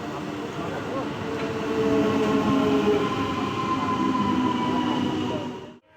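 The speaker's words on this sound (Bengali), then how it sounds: "দশ মিনিট অপেক্ষা করার পর ট্রেন আমাদের সামনে হাজির" A train pulls into a station, a loud steady rumble of wheels and carriages with drawn-out metallic squeals, building slightly before the sound cuts off.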